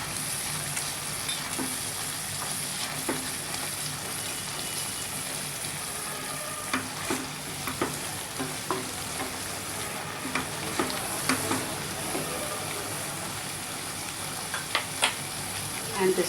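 Cream spooned into a pan of frying stuffed-tomato filling and stirred in, a steady soft sizzle with scattered light spoon scrapes and taps against the pan.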